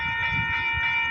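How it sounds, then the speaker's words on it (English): Train horns sound from far off as steady sustained tones over a low rumble, alone without talk. "I hear horns, train horns, like in the distance"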